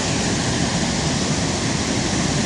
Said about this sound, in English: This is Shivanasamudra Gaganachukki waterfall.